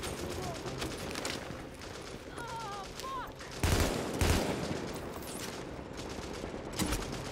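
Bursts of gunfire in the video game The Division crack out in loud, sharp volleys, a couple close together and one more a few seconds later, over busy ambient noise.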